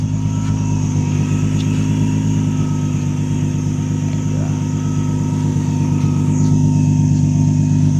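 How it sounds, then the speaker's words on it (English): A supercharged Nissan G35 running with test pipes, its exhaust giving a steady, loud, deep idle drone with a raspy tone, heard close and unbroken throughout. "Let's get some exhaust clips for y'all."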